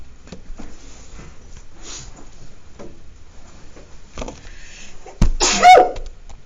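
A single sharp sneeze bursts out near the end after quiet rustling and faint background sounds.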